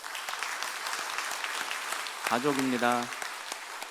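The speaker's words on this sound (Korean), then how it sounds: "우리 세 가족분이 박수 한번 하세요" Church congregation at a Sunday worship service applauding, a steady wash of clapping throughout while someone speaks briefly over it.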